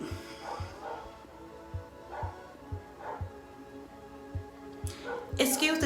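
A neighbor's dog barks repeatedly in the background, a series of faint, distant, evenly spaced barks heard alone, ending in a louder clatter near the close.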